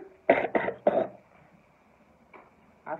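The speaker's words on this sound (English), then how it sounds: "I be coughing and hacking." Three sharp, close coughs in quick succession early on, followed by quieter hacking bursts after a pause.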